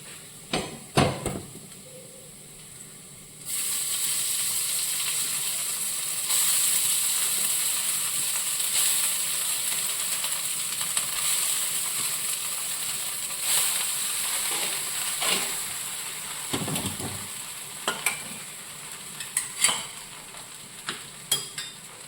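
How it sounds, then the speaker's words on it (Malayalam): Rice being stirred into a garlic mixture in a frying pan, a steady sizzle rising after a few scattered clinks and continuing for most of the stretch, with occasional utensil scrapes and knocks near the end. "ഇനി ഇതിലേക്ക് നമുക്ക് ചോറിട്ടങ്ങ് ഇളക്കിയാൽ മതി"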